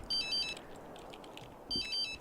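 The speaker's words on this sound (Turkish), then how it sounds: "Telefonu çalıyor." A phone rings in The Sims 3 life-simulation game as two short electronic ringtone bursts with a gap between them, faint over quiet game ambience.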